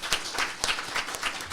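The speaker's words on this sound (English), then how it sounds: "a big round of applause for joining us as well" Audience applause at a live climate podcast event at SDSU, a short burst of scattered clapping from a room of listeners, fairly close and irregular in rhythm.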